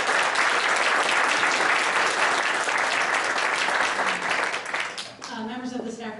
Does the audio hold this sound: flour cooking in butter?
no